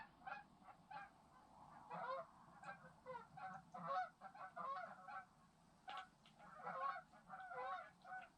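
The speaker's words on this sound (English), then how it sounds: "Listen to those geese." Geese honk repeatedly at a reservoir, with irregular bursts of calls at moderate distance over a faint, steady background.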